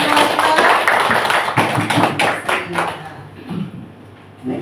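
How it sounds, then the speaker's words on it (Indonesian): A school audience applauds the principal at a teachers' sharing session, a dense burst of clapping that thins into a few scattered claps and then fades to near quiet. "Beri tepuk tangan dulu untuk Bapak Kepala Sekolah kita."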